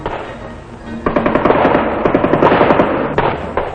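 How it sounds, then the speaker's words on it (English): An M60 general-purpose machine gun fires a rapid, steady burst of rounds at a training range, loud and close, with a rhythmic stream of shots that continues for several seconds. "the hard-hitting M60 general-purpose machine gun is considered one of the most important"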